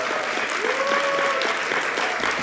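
A church youth congregation at a Sunday worship service claps in steady, moderately loud applause lasting a couple of seconds, with a faint voice briefly audible beneath it.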